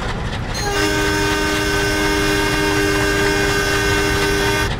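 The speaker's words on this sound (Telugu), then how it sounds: "మన ట్రైన్ అయితే నెక్స్ట్ స్టాప్కి వెళ్ళబోతుంది" A WDM-3D diesel locomotive from Train Simulator Classic, with a loud steady engine drone and rail rumble, and a long sustained horn blast starting early and holding to the end.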